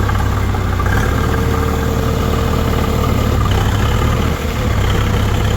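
A Kentavr tractor engine idles steadily with a deep, rumbling drone, close and constant throughout with no voices.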